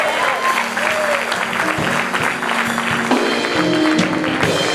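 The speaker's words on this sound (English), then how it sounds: "Give another big round of applause for Mr." Audience applause for a singer on a gospel TV show, loud sustained clapping with crowd noise and what sounds like lingering musical tones beneath, a voice briefly audible within it.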